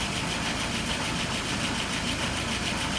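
An engine idling at slightly high RPM during a fuel pressure check, a steady close mechanical hum and rattle that runs unbroken with no talking.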